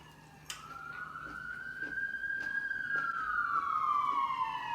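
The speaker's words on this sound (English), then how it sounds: "Love me some LA sirens." A police-style siren wails on a Los Angeles street, one rising and falling tone sweeping slowly at moderate distance, growing gradually louder over faint traffic background.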